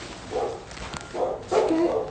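A dog barks three times in quick succession at moderate distance, loud and clear over a steady background hiss.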